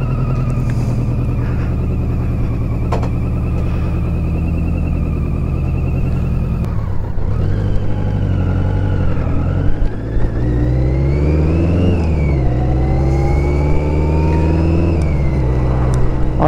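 A BMW K100 motorcycle on its first outing after restoration rides through town with a poorly tuned engine, a loud whirring drone that rises and falls with gear changes and acceleration, and no voices.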